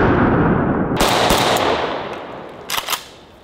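AK-74 rifle fired outdoors, a rapid string of loud sharp reports near the start, then a pause and another quick pair of shots, each with a decaying echo tail.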